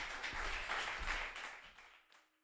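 A talent show audience claps for a participant, a brief burst of applause that swells, then thins out and fades to near silence at the end.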